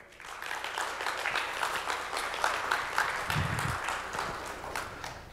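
Applause from a youth forum audience in Seoul, steady clapping at moderate volume with a slightly distant, roomy sound, lasting the whole stretch.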